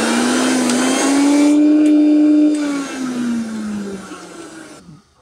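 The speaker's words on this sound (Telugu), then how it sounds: "మిక్సీ బాగా తిరుగుతుంది." A repaired mixer grinder runs with a loud, high whirring motor whine that holds steady, then gradually winds down and stops.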